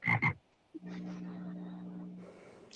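Frog croaking in one drawn-out, buzzy low croak that follows a short burst of noise, fairly quiet and heard alone.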